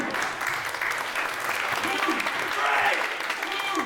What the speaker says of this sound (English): Crowd applauding Callum Beck's resiliency